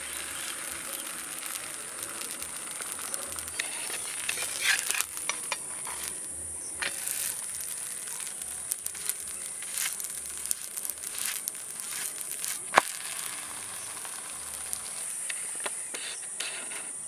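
Paratha frying on a hot tawa, a steady close hiss and crackle of oil with scattered pops and scraping, continuous and fairly loud with no talking.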